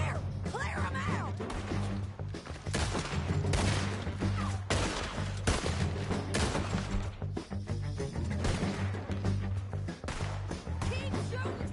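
Dense gunfire rattles nonstop through a Red Dead Redemption shootout, rapid overlapping shots and loud cracks filling the scene while shouted voices break through the din.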